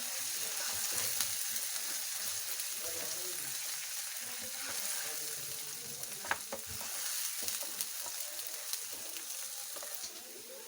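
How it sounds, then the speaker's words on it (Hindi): Garlic ginger paste frying with browned onions in a pan for Afghani baingan, a steady soft sizzle broken by stirring scrapes and a few sharper clicks, close but fairly quiet. "अब इसमें हम ये लहसुन अदरक का पेस्ट डाल देंगे। इसको भी 1 मिनट के लिए हम इसके साथ भूनेंगे।"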